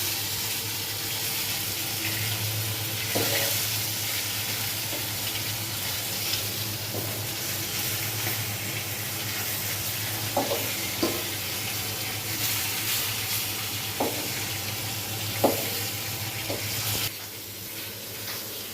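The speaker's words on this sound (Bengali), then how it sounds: "মাছগুলো আমার ভাজা হয়ে গেছে।" Large fish pieces frying in a pan on a home stove: a continuous, moderately loud sizzle with a few sharp clicks and pops from turning or handling.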